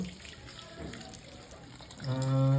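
Water pours into a container for about half a second at the end, rising in pitch as it fills, after a quiet stretch of room noise.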